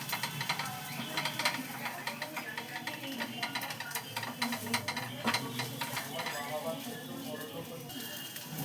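Flattened-rice fritters (bora) fry in hot oil with a steady sizzle, broken by scraping and clinking as a spatula stirs and turns them in the pan, close up and fairly quiet.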